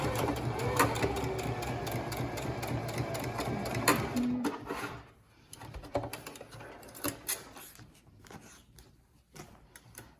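Sewing machine stitching a whale stuffie, a fast steady mechanical whir for about five seconds, then quieter clicks and handling.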